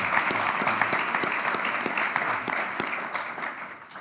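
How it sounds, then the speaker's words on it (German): An audience at a public debate event on Iran policy gives sustained applause, a dense field of hands with some distinct nearby claps standing out and the sound slowly tapering toward the end. "Herzlichen Dank und einen großen Applaus auch dafür."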